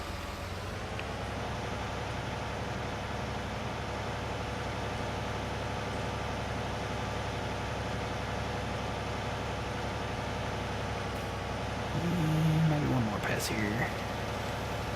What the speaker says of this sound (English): Gotta love this big tractor.